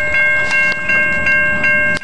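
Norfolk Southern GE Evolution locomotive, unit 7632 leading, rolls past close by with a loud, steady rumble, a sustained tonal whine and rhythmic clicks from the wheels.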